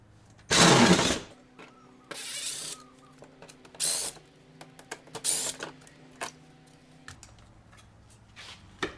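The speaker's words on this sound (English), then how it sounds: "I'm going to take that speaker out. So there's 4 screws holding this in." Screws holding a speaker in a 2019 Sprinter van are backed out with a power driver, several loud whirring bursts separated by short pauses, small clicks and handling noise between, no talking.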